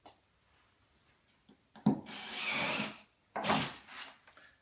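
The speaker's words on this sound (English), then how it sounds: "using the wood backing to drill down into" A drill bit pushes through a plastic bin into a wood backing board beneath it, giving two grinding, rasping bursts at close range after a few faint taps.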